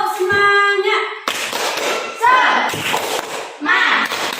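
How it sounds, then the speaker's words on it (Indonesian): Children in a classroom perform the tepuk semangat clap routine, with rhythmic hand claps mixed with loud chanting voices throughout, close and energetic. "mari kita tepuk semangat bersama-sama nggih."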